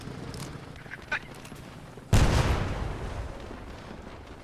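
A single loud gunshot from a weapon in the Post Scriptum war game, a sharp blast with a long rumbling tail, preceded by a few faint distant shots and ambient background noise.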